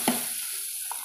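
Urad dal, curry leaves and dried red chili fry in hot oil with a brief, even sizzling hiss and a couple of faint pops, heard alone at close range.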